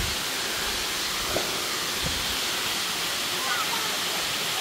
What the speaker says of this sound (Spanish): nos acercamos hacia la cascada El Velo de la Novia